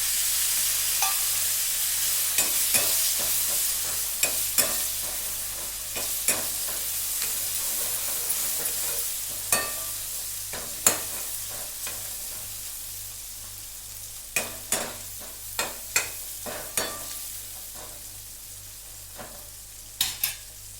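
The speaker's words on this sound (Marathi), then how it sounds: "आता मस्त बघा टमाटर छान तेलात तळलं गेलं" Chopped tomato fried in oil with chilli powder, salt and turmeric, a continuous sizzle broken by frequent sharp spatula taps and scrapes against the pan, close and without speech.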